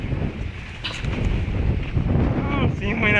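Wind buffets and rushes across the microphone in a constant low roar, with a voice talking over it.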